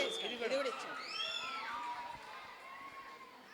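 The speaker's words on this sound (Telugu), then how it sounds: "అరుపులు, విజిల్స్, కేకలు మీ ఇష్టం, ఇవాళ మిమ్మల్ని ఎవరు ఆపలేరు" A crowd of school students cheers and shouts with rising whoops and sliding whistles, a lively, overlapping din of young voices at moderate distance.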